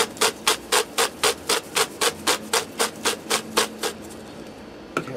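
A hand-held parsley grinder turns over a pot of goulash in a rapid, even run of about eighteen scratchy grinding clicks, close and distinct, with no talk.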